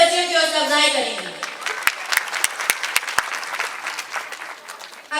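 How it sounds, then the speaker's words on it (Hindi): Audience at a school annual prize distribution ceremony applauds the students' performance, a dense burst of clapping rising after a voice trails off and carrying on steadily to the end. "आपकी भरपूर तालियां हमारी प्यारी प्यारी बच्चियों की हौसला अफजाई करेंगी।"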